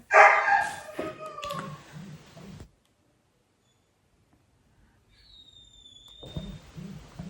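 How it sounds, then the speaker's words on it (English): Several dogs bark in short bursts at the start, with a sharp high whine in the middle stretch, and more barking returns near the end after a quiet gap. "that's why the dogs are barking"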